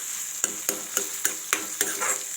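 Soya chunks and green peas sauté in a pan under a steady sizzle, with a spatula striking and scraping in an even rhythm, about seven strokes in quick succession.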